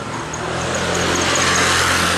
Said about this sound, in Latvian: Tas bija motociklists.